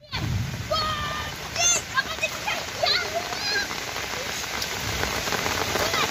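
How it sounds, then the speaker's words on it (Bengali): Heavy downpour drums and splashes continuously across surfaces outdoors in a neighborhood, a dense, loud hiss of rain with faint voices and chirping sounds scattered through it. "মুষলধারে বৃষ্টি হচ্ছে আমাদের এলাকায়, মুষলধারে বৃষ্টি।"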